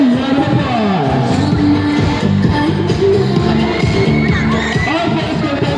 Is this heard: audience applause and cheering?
yes